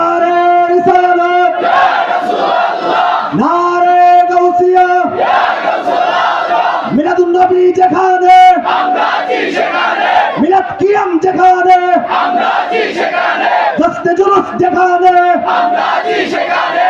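A large crowd at a Jashne Julus religious gathering chants slogans in unison, loud and close, in rhythmic call-and-response bursts that repeat steadily throughout.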